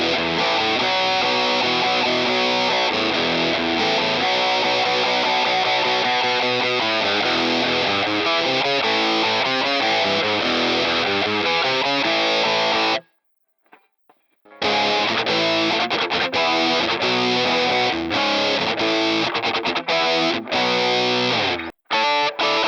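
Distorted electric guitar edge tone played through a Boss Katana amp with a noise compressor, chasing an MXR Rockman X100 sound; loud continuous riffing, a brief gap of silence near the middle, then more playing.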